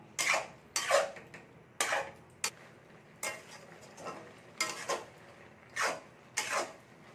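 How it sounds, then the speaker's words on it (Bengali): A spoon scrapes and stirs thick tomato paste cooking down in a pan, with a series of short, close scraping strokes spaced irregularly against a quiet room. "এবার আমি এটা নাড়তে থাকবো।"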